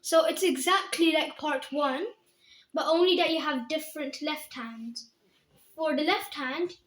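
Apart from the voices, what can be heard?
None of the usual background noises is heard.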